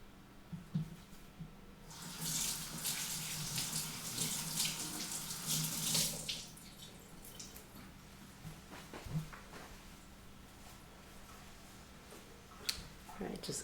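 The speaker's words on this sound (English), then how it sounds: "just gave my hands a quick little rinse" Hands rinsed under a running water tap, heard as a few seconds of soft, steady splashing, followed by quiet handling sounds and soft-spoken talk in a calm indoor setting.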